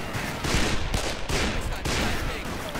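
Gunfire rattles in the Western shooter Call of Juarez Bound in Blood, dense overlapping shots in rapid bursts, loud and close throughout.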